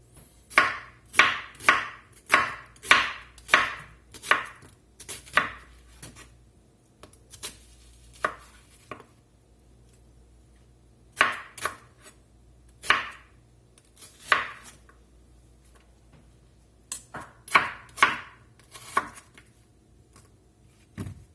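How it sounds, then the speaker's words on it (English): A knife chops onion into slivers for French onion soup, sharp knocks on a cutting board in quick rhythmic runs broken by short pauses, close and alone with no talking. "Now we got nice moon slivers of onion. And we got a whole lot of them to cut."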